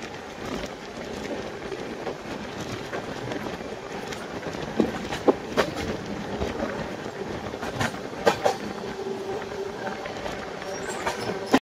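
An AC double-decker train running from Chennai to Bangalore rumbles steadily along the rails with continuous rolling noise and a few sharp clacks and squeals, with faint voices in the background.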